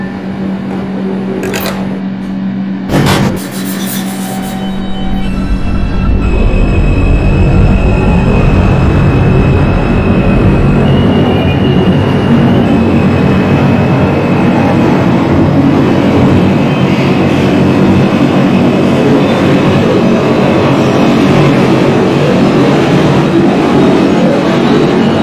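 An R142 subway train on the 6 line toward 3rd Avenue-138 Street, running in the OpenBVE train simulator. A brief chime opens, then a loud, steady rolling rumble with a rising electric motor whine continues throughout.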